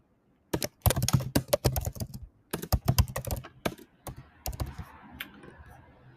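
Fingers tap out bursts of typing on a computer keyboard up close, quick clustered clicks broken by short pauses, trailing off into a few sparser keystrokes and faint background noise.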